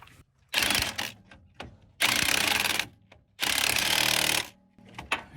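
An impact wrench driving the 18 mm bottom bolt of a Rancho RS5000X front shock on a 2007–2018 Jeep Wrangler JK: three loud, roughly one-second buzzing bursts with short pauses and small clicks between them.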